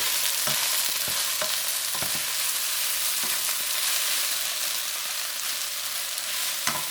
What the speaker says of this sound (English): So take time to kind of browning all these